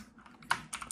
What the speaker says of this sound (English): So this is a Windows keyboard, and I just type like I normally would.